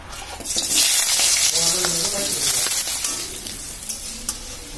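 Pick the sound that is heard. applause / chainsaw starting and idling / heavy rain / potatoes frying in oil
potatoes frying in oil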